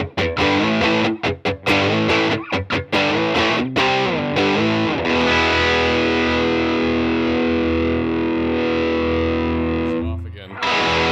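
Electric guitar driven through a RAT distortion pedal with the Reutz mod engaged, first choppy palm-muted chord stabs, then long sustained distorted chords ringing out and fading, loud and upfront.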